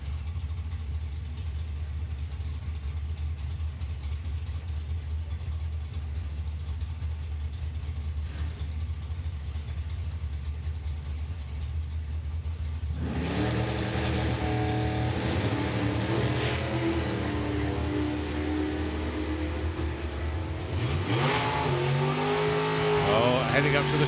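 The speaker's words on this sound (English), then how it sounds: "Dave Cherrett believing first with the Dark Revenger, and then it'd be the Appliance Dragster chasing him down." Drag racing cars, the Dark Revenger and the Appliance Dragster, roar at the STP Springspeed Nationals 2022. Engines drone steadily, then swell louder as the cars rev and launch, beneath continuous commentary over the track speakers.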